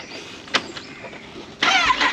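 A Kawasaki Ninja ZX10R motorcycle with an SC Project exhaust starts up: a brief starter crank, then a sudden loud, harsh engine roar that holds steady to the end, close by with no talking.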